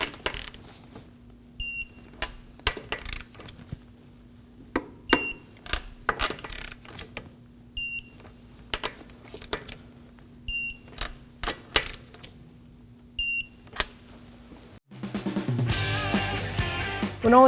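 A torque wrench tightens the wheel lug nuts on a 2016-2020 Kia Sorento in a star pattern. Five sharp metallic clicks ring out at an even pace over a steady low hum, followed by a brief burst of other shop noise.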